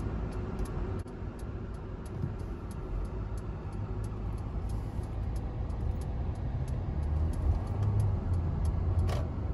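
A car pauses and then turns right on a red light while driving in the United States, heard from inside as a steady, fairly loud engine and road rumble that continues throughout.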